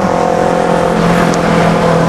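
A Toyota New Innova type V diesel engine idles steadily and loudly up close, a constant droning hum with no talking over it.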